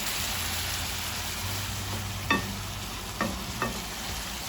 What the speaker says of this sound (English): I'm cooking my chicken and shrimp on a low flame